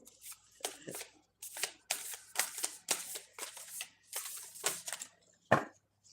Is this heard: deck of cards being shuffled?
yes